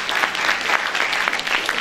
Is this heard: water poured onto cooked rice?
no